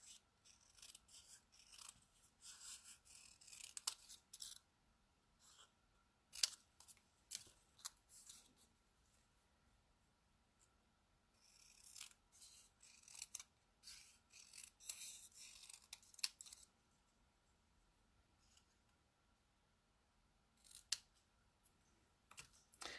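Scissors snip apart paper stickers in quick, close, quiet bursts of cutting and rustling, separated by short pauses, with no talking.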